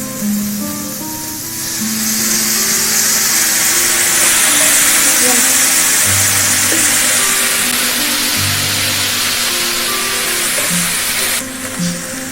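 Beef steak sizzling loudly in a frying pan with onion, capsicum and soy sauce, a steady bright hiss with faint stirring, the frying continuous throughout.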